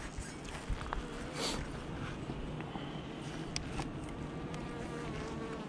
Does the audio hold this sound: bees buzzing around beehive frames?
yes